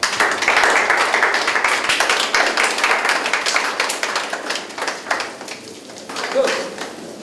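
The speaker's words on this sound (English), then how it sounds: "Please clap for yourselves." Contestants at the end of a preliminary competition stage clap for themselves, a loud, dense burst of group applause that gradually thins and fades toward the end.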